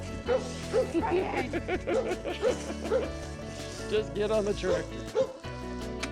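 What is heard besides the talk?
dog barking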